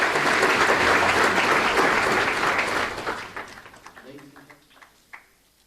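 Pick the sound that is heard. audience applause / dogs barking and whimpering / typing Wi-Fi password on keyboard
audience applause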